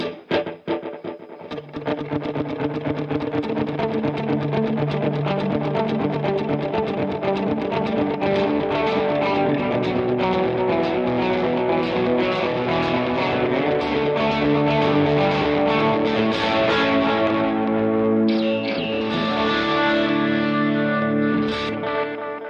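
Electric guitar playing through a dotted-eighth delay pedal, each note echoing in a repeating pattern that fills out a dense, continuous wash of sound.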